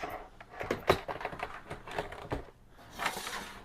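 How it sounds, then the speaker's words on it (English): An Atari TT computer keyboard being set back in place, a series of plastic clicks, knocks and rattles of irregular rhythm, with a louder clatter near the end, close and moderately quiet without speech. "put the keyboard back up"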